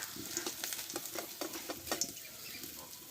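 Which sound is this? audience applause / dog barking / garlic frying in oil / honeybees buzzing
garlic frying in oil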